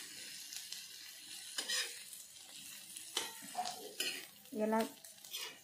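A spoon stirs crushed peanuts into a spicy chickpea thecha in a pan, with soft scraping, clinks against the metal and faint sizzling; a voice speaks briefly partway through.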